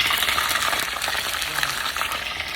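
Bitter gourd (ampalaya) fries in a pan with a continuous close sizzle and crackle, steady and unbroken, with no voices.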